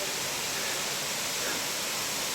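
Ekagudi waterfall in Malkangiri roars as a steady, broad wash of falling water. The noise is dense and unbroken throughout, with no voices rising above it.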